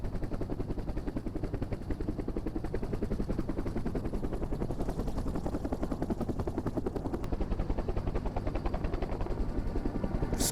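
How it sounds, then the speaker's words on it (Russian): A helicopter flies over the Lena river in Siberia, its rotor beating in a fast steady loud chop close by, with the engine's whine droning underneath for the whole stretch. "Вскоре вертолет пересекает русло Лены"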